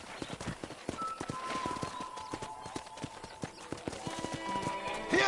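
Horse hooves in the video game Red Dead Redemption, a steady run of close clip-clop footfalls with a brief neigh near the start, alone and fairly quiet.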